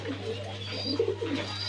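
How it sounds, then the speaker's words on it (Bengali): A pair of Jacobin pigeons coos softly at close range, a few rolling low coos over a steady electrical hum, without speech. "খুব সুন্দর একজোড়া জ্যাকোবিন কবুতর।"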